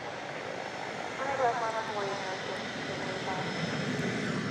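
An airliner's jet engines roar steadily at DFW Airport at night, a broad moderate rumble from a distance, with a voice talking over it.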